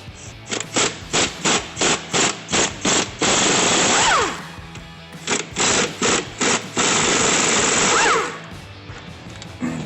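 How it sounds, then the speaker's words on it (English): A power tool buzzes in a series of short, rapid bursts, then runs in two longer sustained stretches while removing the bottom bolts of a front strut on a GMC Sierra 1500 truck. "you're going to be taking these bolts out from the bottom of the strut"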